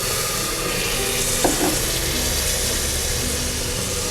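Coriander and mint leaves sautéing in a pan for mushroom biryani, a steady soft sizzle throughout with a brief stirring clatter midway, no talking.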